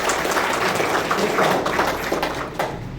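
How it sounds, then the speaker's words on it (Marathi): Applause from a seated audience fills a hall for an honoree at an award ceremony, steady dense clapping that holds for a few seconds and begins to thin out at the end. "आदरणीय डॉक्टर बाबांच्या एकदा जोरदार टाळ्या होत्या त्यांच्यासाठी"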